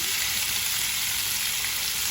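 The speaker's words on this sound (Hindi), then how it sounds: "मैंने पटैटो डाल दिया, इसको मिक्स कर रही हूँ।" Potatoes fry in hot oil with hing and cumin, giving a steady, loud, even sizzle that fills the whole stretch with no voices.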